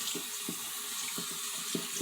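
Tap water pours steadily into a bathroom sink before a wet shave, a constant hissing splash with faint low knocks underneath and no voices.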